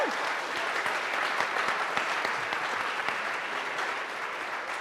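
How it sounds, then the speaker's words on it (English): Audience at a CEO panel applauding steadily, a dense, even wash of clapping throughout with no break. "Clap it up for the CEOs."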